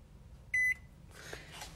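A microwave oven timer gives one short, clear electronic beep, followed by faint kitchen rustling.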